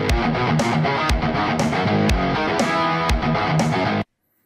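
Electric guitar riff with a fuzz tone from the Jonathan Bell Riffler riff-creator plugin: a dense, loud, distorted phrase with sharp repeated attacks plays alone for about four seconds, then cuts to silence.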